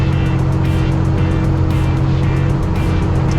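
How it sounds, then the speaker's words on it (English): A loud truck cruising on Interstate 95 in North Carolina through a work zone, giving a steady, dense engine and road roar that stays constant and close throughout, with no talking. "I kind of wanted to avoid filming on the interstate because my truck is so loud"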